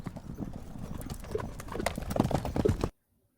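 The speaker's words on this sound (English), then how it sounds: "the horses' hooves clumping an earth-shaking sound" Hooves of stagecoach horses clop rhythmically on earth, steady close hoofbeats growing louder and stronger before stopping abruptly.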